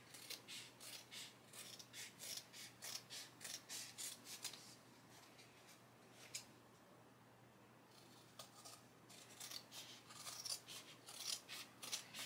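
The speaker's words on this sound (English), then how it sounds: "I'm just going to take my scissors and just cut around the edge" Scissors snipping around the edge of a dollar-store embroidery canvas, a quiet run of rapid crisp cuts, a pause of near silence mid-way, then more snips, close and faint.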